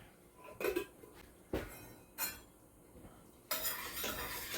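Metal spoon scraping and clinking against a pan as canned tomatoes are stirred into a deglazed braise for goat ragù, several distinct scrapes and knocks with a steadier stirring rustle toward the end, close and clear.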